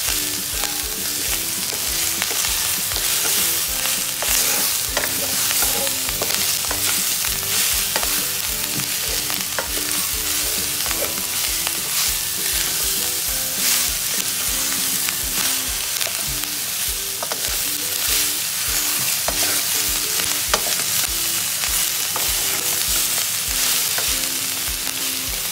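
Mixed vegetables with green capsicum fry in hot oil, a loud continuous sizzle close by with a steady crackle and frequent scrapes and taps from stirring, no voices.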